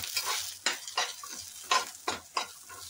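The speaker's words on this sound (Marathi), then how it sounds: "ह्याच्यात थोडेसे 5-6 लसणाच्या पाकळ्या, थोडंसं आलं ते टाकून भाजायचं" Garlic cloves and ginger roast with coconut and onion in a pan for misal masala, heard as a soft sizzle broken by repeated scraping stirs of a spoon against the pan, close and with no talking.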